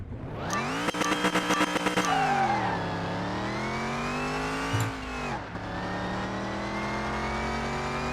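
A race car engine in Car Mechanic Simulator 2021 revs hard at the start, rapid throttle blips giving way to a loud sustained roar that rises and falls through gear changes, close and continuous.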